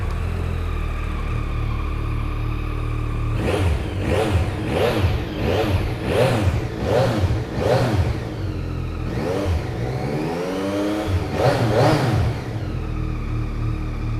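A Yamaha MT-09 motorcycle engine idles, then gets a quick run of about eight sharp throttle blips, each rising and falling fast, before a longer rev and a return to a steady close idle.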